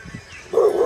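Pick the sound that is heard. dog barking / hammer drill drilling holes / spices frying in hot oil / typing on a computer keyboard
dog barking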